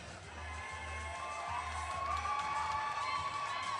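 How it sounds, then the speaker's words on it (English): A boxing crowd at a 125 lb title fight roars for hometown boxer Desmond Moore, a steady, dense wall of cheering and shouting that holds loud and continuous throughout. "And the crowd is going nuts for the hometown boy, Desmond M80 Moore"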